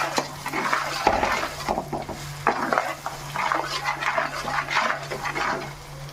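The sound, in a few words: stirring chili powder and salt into fish curry base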